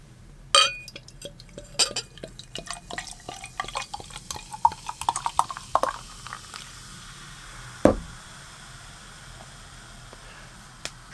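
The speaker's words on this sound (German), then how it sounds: "Gießen wir mal ein." Oettinger Malz, a malt beverage, is poured into a glass: an initial glassy clink, then a run of small clinks, drips and liquid trickles, close and fairly quiet, with no talking.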